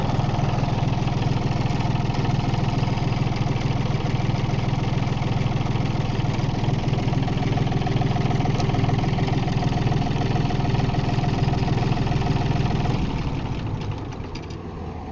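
A John Deere 870 tractor engine idles steadily and loudly up close, a constant low rumbling drone with no talk, easing slightly in level near the end.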